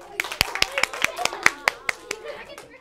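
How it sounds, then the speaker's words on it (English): A short round of classroom applause, sparse claps from a small group of children, fairly close, with a few scattered claps trailing off after about two seconds. "Round of applause for Ava"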